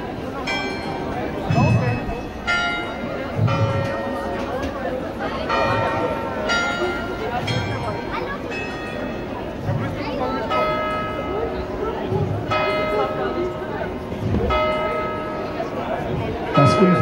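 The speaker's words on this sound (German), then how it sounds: "Das unverkennbare Glockenspiel" Carillon bells ring out a melody with repeated bright, sustained tolls over a large dance event, ringing steadily throughout with a low crowd murmur and scattered voices underneath.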